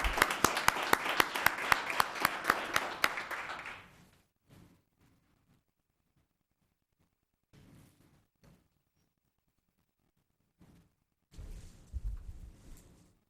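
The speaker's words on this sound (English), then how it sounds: "Let's give one more round of applause for Hollywood Amber Kelly." An audience at a town council meeting applauds, a dense burst of clapping that lasts about four seconds and fades out, followed by quiet with faint stirring and a brief louder rustle near the end.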